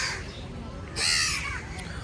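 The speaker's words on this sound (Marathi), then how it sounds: "हे बघा या ठिकाणी कावळे किती जमा झालेत" Crows caw by a lakeside in the morning: a harsh, fairly close call bursts out midway over a steady outdoor background, with fainter cawing before it.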